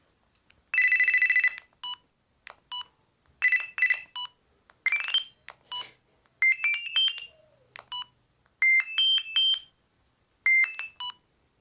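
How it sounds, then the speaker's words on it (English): A Panasonic EB-GD93 mobile phone plays a polyphonic ringtone: a sequence of bright, beeping melodic phrases in short bursts separated by brief pauses, clear and close with no talking. "I've chosen that ringtone."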